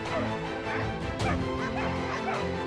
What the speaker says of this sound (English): The two dogs run around the hedgehog and make noises to scare the animal.